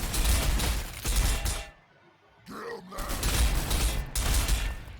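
Ork guns firing in Warhammer 40,000: Sanctus Reach, a dense loud fusillade of rapid shots that cuts out briefly midway, then resumes with chattering bursts to the end.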